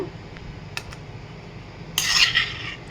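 A lid lifted off a kadai of fried chicken legs gives a short metallic clink and scrape, followed about a second later by a brighter, louder burst of sizzling rattle. The sounds are close and there is no talk.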